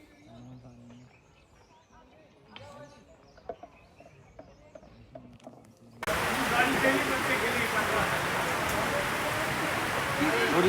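Rain pours down on the pilgrimage route to Vaishno Devi at Katra. A dense, hissing downpour starts abruptly and continues steadily, after a quieter stretch with voices and scattered background sounds.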